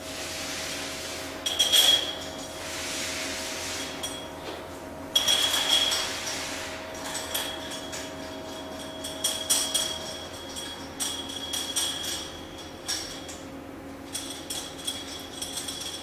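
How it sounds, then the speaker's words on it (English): Metal screws with washers being handled and fitted into an industrial pump head against its casing, giving sharp metallic clinks and taps, two clear ones early, then a busier run of small rattles and scrapes up close. "the next step is to install the screws into the head, hold the head to the casing"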